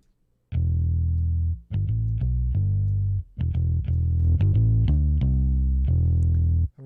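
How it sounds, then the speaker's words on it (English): A distorted electric bass plays a choppy riff of sustained, gritty low notes separated by short gaps, loud and alone. "We just have a bass. And on this bass, will have a distortion."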